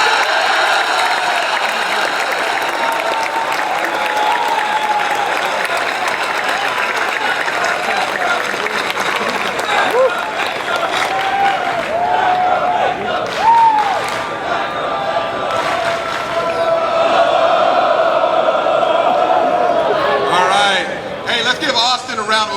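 Audience applause welcoming Mayor Johnson at a solar celebration: loud, sustained clapping from a sizeable crowd for over twenty seconds, with voices and some cheering mixed in.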